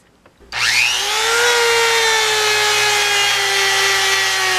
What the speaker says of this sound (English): Now let's get out the buffer and see if that buffer can bring that up.